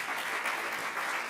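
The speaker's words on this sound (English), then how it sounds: "Let's give them another round of applause." Sustained audience clapping at an awards ceremony honoring recipients, an even wash of many hands at close range with no talking over it.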